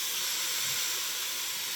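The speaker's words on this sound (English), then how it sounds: "First batch of fries are in." Fries frying in hot oil give a steady, close hiss of bubbling and sizzle that holds evenly throughout, with no talk over it.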